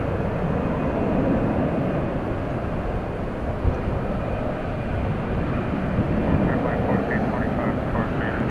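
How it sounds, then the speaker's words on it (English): American Airlines jet on a repositioning flight to LAX passing over a very busy airport, its engines a continuous broad roar at moderate distance that swells slightly toward the end. "American 9780 headed to LAX on a repositioning flight"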